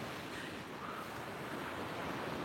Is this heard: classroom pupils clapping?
no